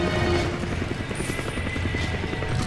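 Helicopter in the video game Resident Evil 5: a steady, dense rotor drone with rhythmic chopping pulses, loud and continuous throughout with no talk.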